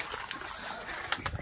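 Chicks in a nest tucked inside a banana bunch give faint, brief peeping calls over quiet outdoor background, with a couple of soft chirps near the end.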